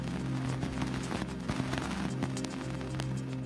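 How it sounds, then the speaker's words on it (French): Cassini's antenna records dust striking it while the probe flies near Saturn's F ring, a dense, steady crackle of tiny ticks and pops over rumbling static, without voices. "Voici le bruit des poussières heurtant l'antenne de l'engin."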